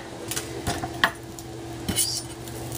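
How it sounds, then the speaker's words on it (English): A knife chops an onion with its skin left on against a cutting board, producing a few sparse, irregular sharp taps over a quiet background. "So next we're going to chop an onion."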